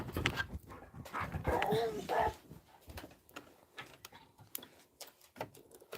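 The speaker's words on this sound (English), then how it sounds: "Does anyone else have a whiny dog?" A whiny dog whimpers and pants in a home sewing room, with soft intermittent whines and movement sounds spread across several seconds, fairly close but not loud.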